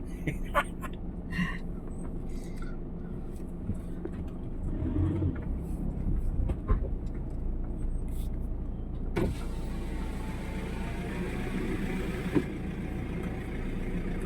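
A car pulls into a parking space on a rainy day, with a low, steady engine rumble, a whirring motor like a power window, and scattered clicks and knocks, all heard close from inside.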